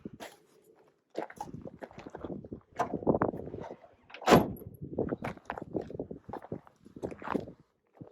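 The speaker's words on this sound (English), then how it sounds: "Shut the doors, lock it up" Truck doors swing shut and lock in a run of bangs, clicks and latches, with footsteps and handling noise between them. No one speaks.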